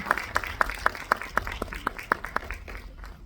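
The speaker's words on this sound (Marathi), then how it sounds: "एकदा जोरदार टाळ्या दोघांच्या" Audience clapping at a film trailer launch event for the movie Uttar, heard as a string of sharp, regular claps with a thin spread of applause around them, fairly close and lasting the whole moment.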